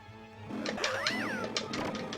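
Evil the Cat from the Earthworm Jim video game, a drawn-out synthesized yowling meow with bending, sliding pitch over game music.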